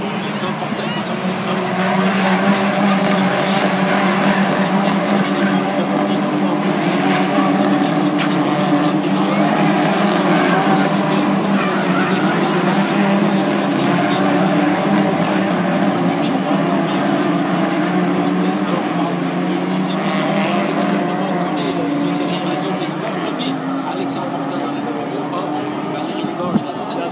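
Nissan Sentra Cup race cars lap a track in a 2024 race seen from the grandstands, a dense, loud, steady engine roar with occasional tire squeal throughout, under continuous talking.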